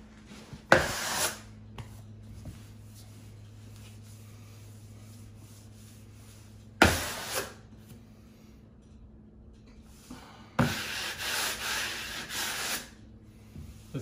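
Wallpaper being wiped and pressed flat onto a wall with a smoothing stroke, giving close, brief rubbing swipes around one second and seven seconds and a longer scraping pass near the end, with quiet pauses between.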